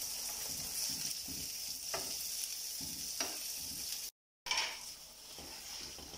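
Kebabs sizzle and fry in masala in a karahi, a steady hiss with soft stirring knocks, close and fairly quiet, briefly cut off before resuming.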